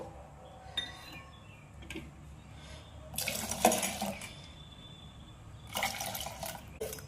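Water splashes into a mixer jar holding lentils in two short bursts, a gush around the middle and another near the end, with quieter pauses between.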